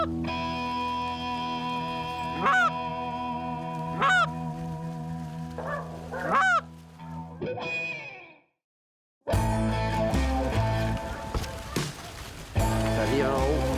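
Geese honk repeatedly in distinct bursts over a steady droning tone during a hunting outing, the calls rising and falling, then a brief silence before a louder, noisier stretch resumes.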